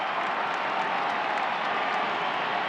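A large Italian crowd applauds Wilson, a dense, even roar of clapping that holds steady throughout without pause.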